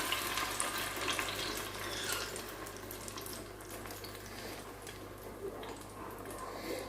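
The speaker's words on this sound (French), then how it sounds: "I'm gonna rinse my blender." Tap water runs steadily into a sink while a blender jar is rinsed out, a continuous gentle splashing stream at close range with no talking.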